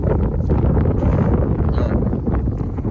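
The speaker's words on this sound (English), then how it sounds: "If you have trouble hearing me, it's because of the wind." Strong wind buffets the microphone on a front deck in a steady, loud rumble that fills the whole stretch, with gusty roaring and no voice heard.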